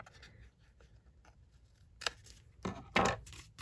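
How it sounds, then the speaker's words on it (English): Scissors trimming a small paper overhang on a watercolor card: faint rustling handling, then three sharp, close snips in quick succession near the end. "I am going to trim just this little overhang here because it's just slightly hanging"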